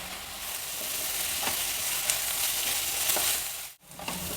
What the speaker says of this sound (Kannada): ಈರುಳ್ಳಿ, ಮೆಂತ್ಯ ಸೊಪ್ಪು ಎಲ್ಲ ಚೆನ್ನಾಗಿ ಬಾಡಿದೆ, ಎಣ್ಣೆಯಲ್ಲಿ ಚೆನ್ನಾಗಿ ಫ್ರೈ ಆಗಿದೆ.